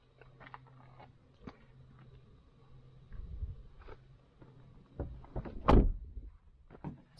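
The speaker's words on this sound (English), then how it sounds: "So let's open the door here." A small Native campervan door is handled with a series of quiet clicks and knocks, ending in a louder latch clunk and rattle near the end, close by with no talk.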